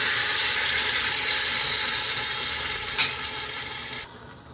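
Marinated mutton with yogurt sizzles loudly and continuously in a hot pot with whole garam masala and cardamom, a steady hiss with one brief clatter before it suddenly quiets.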